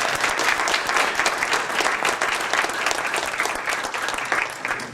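A crowd at the Detroit APBA Gold Cup hydroplane race on the Detroit River breaks into sustained applause, a dense steady wash of many hands clapping with no talk over it.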